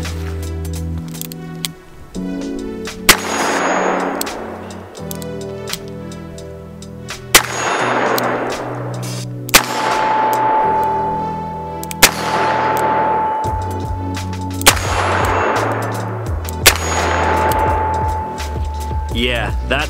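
A Chiappa Rhino 60DS revolver fired one-handed: six loud, sharp shots spaced about two seconds apart, each with a metallic ring. Faint background sounds fill the gaps between shots.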